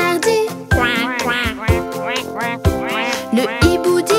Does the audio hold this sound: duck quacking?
yes